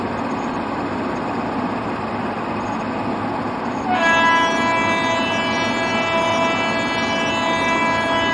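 A locomotive from Indian Train Simulator on a winter run from Jammu Tawi to Pathankot rumbles steadily, then a sustained multi-tone horn sounds loud and close from midway to the end, with no voices.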